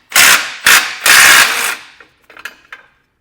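An impact tool or ratchet removes 16mm head bolts from a frame bracket on a 2024 Jeep Wrangler Unlimited, three loud, close buzzing bursts followed by a few fainter clicks and rattles.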